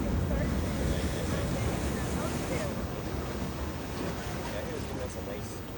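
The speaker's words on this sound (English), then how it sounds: "There's a splashing just in front of the rocks" Ocean waves splash against the rocks at Pebbles Beach, Barbados, in a loud, continuous wash of surf with heavy wind buffeting close to the microphone.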